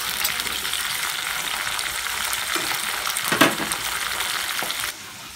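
Spice paste for jumbo lava meatball soup sizzles and sautés steadily in a pan, a continuous close hiss with a brief louder crackle partway through before it quiets near the end.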